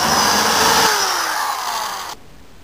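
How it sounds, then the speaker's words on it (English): A hand drill bores a hole in metal for a permanent magnet wind turbine rotor build, whining loudly and steadily up close, then winding down and falling quiet as the bit finishes. "This has to be drilled straight up and down, just like a drill press did it."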